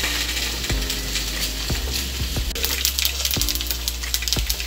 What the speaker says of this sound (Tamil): அதுக்கு ஒரு பாத்திரத்தில் எண்ணெய் காஞ்சிருச்சு, கடுகு உளுந்த பருப்பு போட்டுக்கிறோம்.